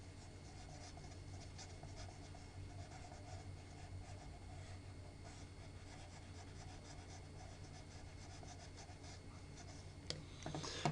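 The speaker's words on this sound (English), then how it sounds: "Very quickly, I am going to draw now" A pen scratches and rubs steadily across paper while drawing a chemical structure, quiet and close, with a couple of sharper taps near the end.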